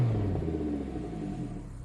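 A Lamborghini supercar engine runs as it is switched on, a deep, loud, close rumble that eases slightly over a couple of seconds.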